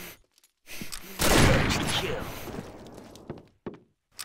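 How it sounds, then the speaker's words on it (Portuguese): A loud gunshot blast in the video game Combat Arms bursts out and decays into a rumbling tail, followed by a few scattered thuds and clicks. "Pelo menos o primeiro tiro do dia a gente acertou"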